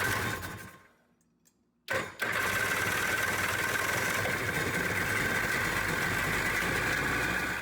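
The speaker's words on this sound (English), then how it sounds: "we were able to get the ski running today" A 1996 Sea-Doo jet ski engine is cranked after carburetor and electrical work. A brief quiet crank comes first, then the engine catches loudly around two seconds in and settles into a steady, continuous idle.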